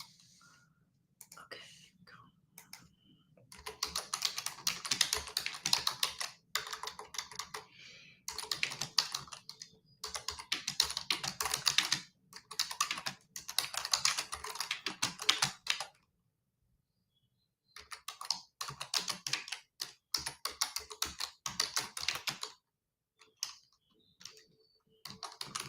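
Someone types a mantra on a computer keyboard in bursts of rapid, close clicking, separated by short pauses and one longer silence, with faint whispering.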